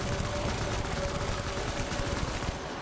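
Dense, continuous gunfire from the video game Death Stranding, a loud sustained rattle of rapid shots filling the whole moment with no pause.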